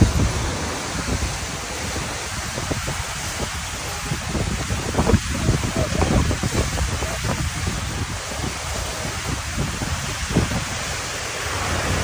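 Seljalandsfoss in Iceland in winter, heard from a path that walks behind the falling curtain, gives a constant heavy roar of crashing water mixed with gusty wind buffeting the microphone.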